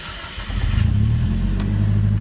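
Volkswagen Golf car engine idling and revving steadily up close, a deep continuous rumble after a brief start, with no talking over it.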